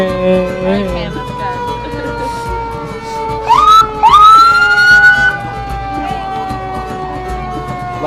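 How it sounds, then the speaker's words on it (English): A police siren rises and wails nearby at a St. Patrick's Day parade, swelling loudly midway, over a low engine rumble and background tones. "Boy, the state, he really likes his siren."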